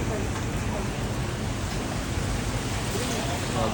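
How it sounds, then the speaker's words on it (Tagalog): Steady, dense typhoon rain in Taiwan pours down loudly without pause, a constant broadband hiss filling the whole clip. "sobrang lakas ng ulan dito guys"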